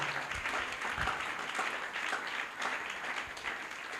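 A church congregation at a Sunday service claps for Jesus, a fairly quiet, dense patter of many hands with a few sharper claps standing out, sustained throughout.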